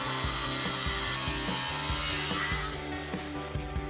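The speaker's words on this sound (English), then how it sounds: "Gonna use a combination of a grinder and a Sawzall to remove this." A Sawzall reciprocating saw cuts through a ball joint or upper control arm on a 2014-2018 Silverado 1500, making a steady, rhythmic rasping stroke that repeats several times a second, close and loud throughout.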